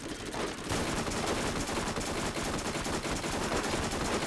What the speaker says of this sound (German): Ohne zu zielen, ich schieße einfach drauf